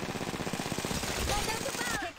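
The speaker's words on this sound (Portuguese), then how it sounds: "Eu sei que eu tô levando tiro pra caramba" Rapid automatic gunfire in Apex Legends Mobile, a fast rhythmic string of close shots rattling steadily for about two seconds before cutting off, with a voice talking over it.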